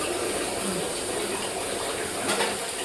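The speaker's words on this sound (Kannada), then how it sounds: "ಇವಾಗ ಅಕ್ಕಿ ಹಾಕ್ತಿದ್ದೀವಿ, ಇವೆಲ್ಲ ಚೆನ್ನಾಗಿ ಕುದೀತಾ ಇದೆ." Rice tipped into a pot of boiling water for biryani makes a steady, close rush of bubbling and hissing that stays fairly even throughout and swells slightly near the end.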